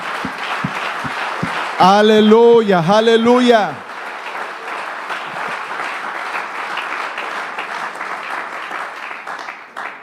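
A church congregation at a Sunday service claps vigorously throughout while voices loudly call out in praise for a couple of seconds early on, then the applause continues more softly and fades at the end.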